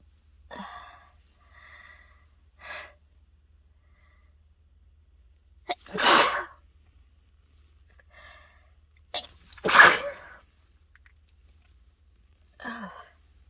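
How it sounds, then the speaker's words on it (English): A person sneezes repeatedly: two forceful, explosive sneezes a few seconds apart, with soft gasps, sniffs and breathy sounds between them in an otherwise quiet room. "I have to sneeze."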